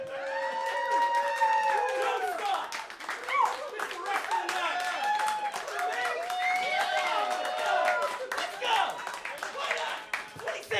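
Applause from an audience at a comedy show in a print gallery, sustained clapping with scattered cheers and crowd murmur filling the room throughout.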